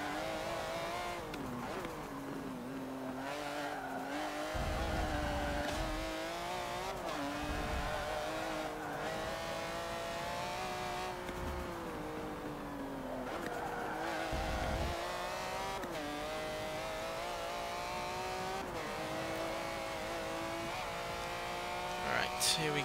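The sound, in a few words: Ferrari 612 Scaglietti accelerating, wheelspin, Forza Motorsport 7 video game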